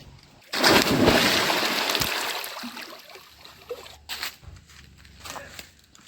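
Water splashes and sloshes as someone bathes in a forest stream at Naduvathumoozhi near Achankovil, with a loud, dense burst of splashing at first, then softer intermittent splashes and trickles close by.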